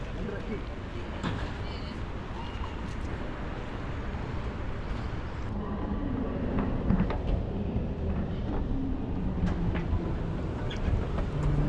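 Busy Casa-Voyageurs train station in Casablanca, Morocco: a steady rumble of rail and platform noise with clattering and shuffling, people talking throughout near and far.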